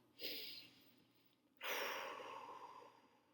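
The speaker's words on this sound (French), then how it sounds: "Je veux entendre quelques respirations." Two slow, close breaths drift through a quiet room during Christian meditation, one short and soft, then a longer fuller exhale that fades gently away.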